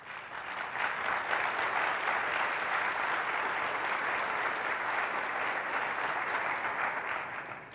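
An audience at an American Library Association talk breaks into sustained, even applause that holds strong and dense for several seconds with no talking over it.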